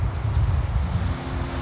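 Wind gusts and sea waves wash against a shore on a chilly early-spring coast, a loud, continuous rumbling roar with buffeting wind noise on the microphone and no voices.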